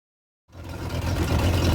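A Mercruiser 5.0 L boat engine running on muffs starts up abruptly after silence and settles into a steady, throbbing low rumble close by.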